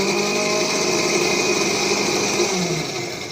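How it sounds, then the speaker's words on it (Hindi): An electric grinder whirs steadily as it blends a fruit and vegetable popsicle mixture, a loud, close motor drone with a faint pitch shift before it slows near the end. "So let's give it a grind."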